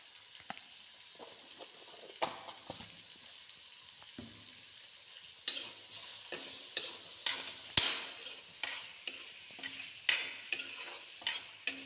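Vegetables frying in a pan with salt and turmeric for hostel-style Maggi noodles, a quiet steady sizzle punctuated by sharp scrapes and taps of a spatula stirring, growing busier toward the end.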